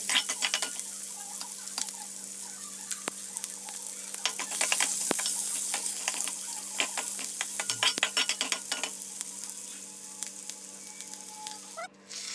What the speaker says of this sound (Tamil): அது நல்லா ஒரு பொன்னிறமாக வதங்குற வரைக்கும் அதை வந்து நல்லா கிளறி விட்டுட்டே இருங்க